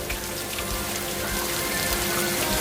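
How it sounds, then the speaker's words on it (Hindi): Heavy rain pours down outdoors near a tree, a continuous, even hiss of dense falling water that stays loud and steady from start to finish with no voices. "जोरदार बारिश शुरू हो जाती है"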